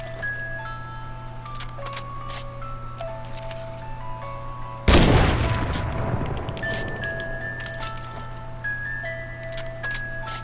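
A single loud gunshot cracks out midway through a video game match and rings off into a fading tail, with steady game music tones and ambience running before and after.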